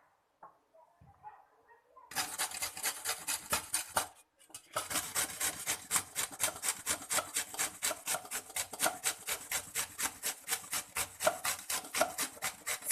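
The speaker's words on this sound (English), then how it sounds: "See, like this I am going to grate all the mangoes." Raw mangoes rasped against a kitchen grater, a quiet start giving way to a steady, rapid run of rough scraping strokes that continue evenly and close up with no talk.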